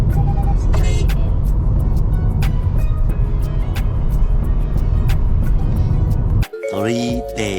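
Riding in a motorized tricycle: a loud, steady engine drone and road rumble run throughout, with faint voices, then the sound cuts abruptly to something different near the end.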